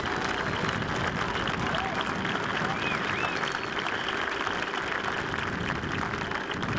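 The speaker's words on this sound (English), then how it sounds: "Please give them a round of applause." An outdoor crowd at a special operations forces demonstration in Tampa, Florida, applauds steadily for the operators, a dense continuous wash of clapping with faint cheers and whistles mixed in throughout.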